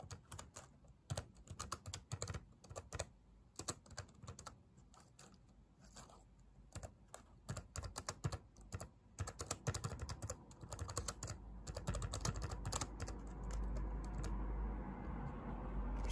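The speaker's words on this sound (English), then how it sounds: "Seems to be all right typing." Rapid clicking keystrokes on a computer keyboard, tapped in uneven bursts and runs at close range, no voices, with a rising mechanical hum underneath toward the end.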